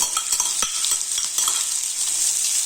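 Sliced shallots and onions sizzling in a hot pan for a chicken roast, a bright continuous crackle with repeated spatula scrapes and taps as they are stirred, close and fairly loud.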